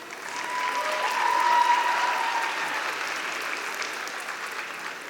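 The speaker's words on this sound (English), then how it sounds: "Let's give them a huge round of applause." An audience at an India Day celebration claps steadily, swelling to a peak and then holding as a broad, even round of indoor applause.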